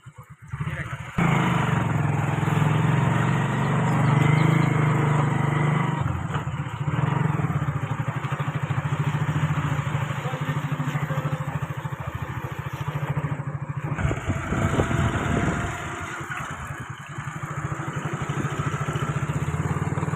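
A newly bought scooter's small engine runs as it is ridden, a steady close buzzing drone that dips briefly before picking up again, with occasional rattling.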